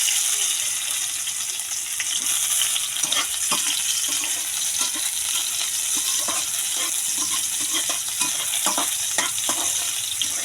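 Garlic and onion sauté in a pan for adobong sitaw, giving a loud, continuous sizzle broken up by rhythmic scraping and stirring strokes.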